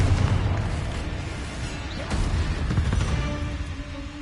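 A Confringo blasting spell detonates in Hogwarts Legacy, a muffled low boom that rolls on as a deep rumble with scattered crackling debris, fairly soft and continuous with no sharp peak.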